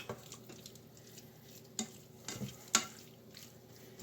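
A spoon or spatula stirs beef and broccoli in a pan, making a few sparse, quiet scrapes and clinks against the metal over a faint low background, with no talking.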